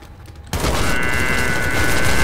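Rapid gunfire in the People Playground game, a dense burst of shots that starts abruptly after a brief quiet moment and then continues loud and steady.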